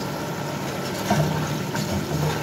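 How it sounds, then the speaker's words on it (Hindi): Hot water, about one glass, poured into a masala in a pan for besan alty palty; a steady low liquid wash and sizzle with no talk. "हमने 1 गिलास जितना पानी गर्म करा है इसे हम डाल देंगे"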